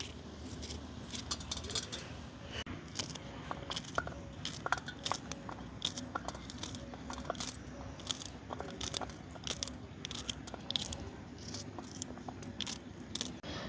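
A knife chops onions, green chilies and curry leaves for village-style vada, giving a steady run of quiet, crisp cutting taps on a board, close up with no speech.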